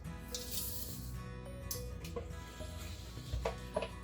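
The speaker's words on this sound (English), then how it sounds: "So I sprayed it a little bit with non-stick spray" Non-stick cooking spray hissing onto a hot waffle maker in a home kitchen, several short bursts of spray with small clicks and ticks between them, close and fairly quiet.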